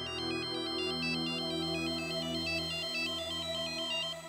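Mobile phone ringtone for an incoming call, a steady repeating electronic melody ringing continuously at moderate volume with no talk over it.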